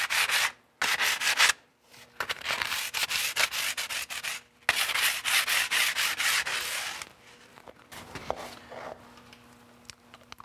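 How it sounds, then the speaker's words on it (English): Sandpaper scuffing a vinyl flooring transition strip by hand, bursts of rough rubbing strokes in quick rhythm with short pauses between, close and fairly loud. "Then we'll take some sandpaper and scuff up our transition strip."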